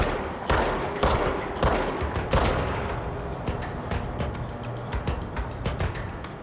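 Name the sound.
gunfire in the video game Control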